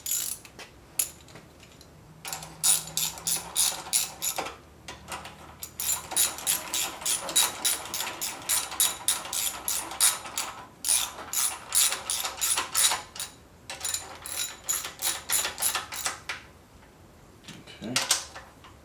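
A ratchet tightening the band brake on a mini bike, rapid close clicking in repeated bursts separated by brief pauses, with a voice heard briefly.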